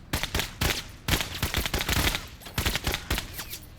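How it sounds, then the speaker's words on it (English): Sustained video-game gunfire laying down covering fire, a dense run of sharp shots in quick irregular bursts, loud and close with brief gaps between volleys. "That's called covering fire, right?"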